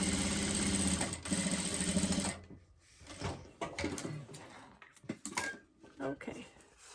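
A sewing machine top stitches the pocket of a zippered pouch, humming steadily for a couple of seconds before giving way to scattered handling clatter and fabric movement, with a voice talking.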